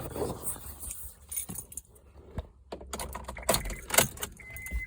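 Keys jangle and clink in the ignition of a 2010 Honda Accord as it is switched to on, with light rustling and a brief electronic chime tone near the end. The sound is close, and there is no talk.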